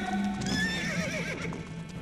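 Several horses whinny and neigh in a stalled army column on stony, thorny ground, the calls overlapping at close range, with hooves clip-clopping underneath.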